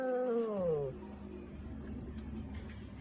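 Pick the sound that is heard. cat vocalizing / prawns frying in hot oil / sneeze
cat vocalizing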